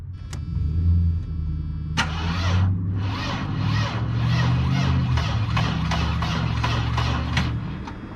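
A car engine cranks with a rapid, rhythmic chugging of the starter for several seconds under a low idle hum, close and fairly loud, without catching into a full run.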